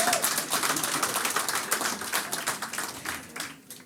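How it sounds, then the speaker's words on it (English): Comedy-club audience clapping at a stand-up show, a dense wash of many hands applauding steadily for a few seconds, loud and close, with no distinct voices on top. "Clap your hands if you think Musk was doing the Hitler sign"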